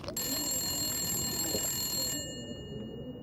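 A telephone rings in a survival game set in a frozen wilderness: a steady electronic ringing tone with sustained pitched layers that cuts off partway through, leaving faint room noise underneath.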